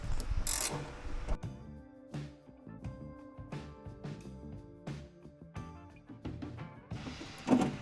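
A ratchet loosens bolts on a Jeep XJ window regulator, giving a close run of quick, repeated mechanical clicks in an uneven rhythm throughout.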